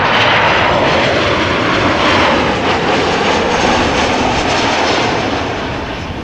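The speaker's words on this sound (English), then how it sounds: "So this is Transavia, flight 5624, Boeing 737-800, arriving from Palma de Mallorca" Loud, close roar of a Transavia Boeing 737-800 jet airliner arriving from Palma de Mallorca at Amsterdam Schiphol Airport, a broad sustained engine rush that fades slightly toward the end, with no voices.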